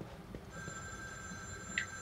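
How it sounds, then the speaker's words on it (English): A telephone rings inside the horror video game The Evil Within 2, a faint steady electronic tone running under a low rumbling background with one brief brighter chirp near the end. "Ooh, phone."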